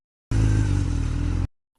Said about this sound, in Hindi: अब देखो यू करी मैंने बाइक स्टार्ट, और यू चले हम घर पे